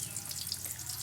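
Shallots and garlic fry in a pan for a vegetable soup, giving a soft, steady crackling sizzle that stays quiet and constant throughout, with no one speaking.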